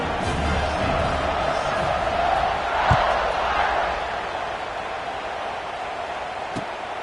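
A football stadium crowd roars on after a scoring drive as the kickoff unit takes the field, a broad, steady wash of distant cheering with a brief swell midway and a faint voice mixed in.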